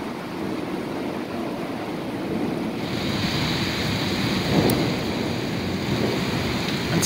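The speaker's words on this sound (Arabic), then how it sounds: "امطار الخير غزيره جدا غزيره جدا غزيره جدا" Very heavy rain pouring down in Fez, a steady loud roar and hiss of rainfall with wind rumble on the microphone, continuous for about seven seconds with no talk.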